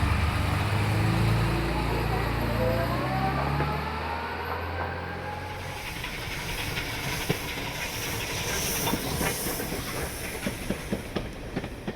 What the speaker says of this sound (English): the Royal Train was captured on film arriving at Waterloo Station on the 14th of May 1940, hauled by LSWR T9 class locomotive number 119